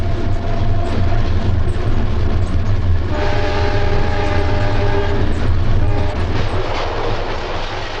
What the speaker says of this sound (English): an eastbound coach train of the orange 1929 steel cars rounding Hanson's or Ford City curve